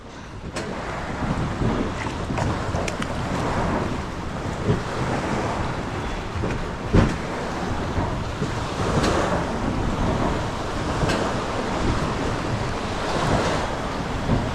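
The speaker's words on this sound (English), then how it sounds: "so the waves are crashing on the shore" Waves wash continuously against a Grand Lake shore, with wind buffeting the microphone and occasional louder splashes, heard alone without talk.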